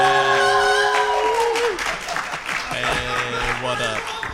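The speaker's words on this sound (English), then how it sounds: "I guess they want to cheer," Audience at PUCLcon 2018 cheers and applauds, a broad wash of clapping and crowd noise under tonal voices and a loud sung or shouted line, sustained across the moment.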